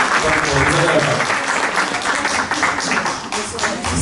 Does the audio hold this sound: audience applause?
yes